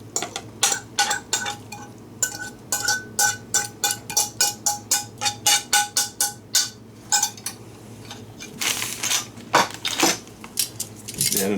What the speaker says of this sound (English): Then another stir.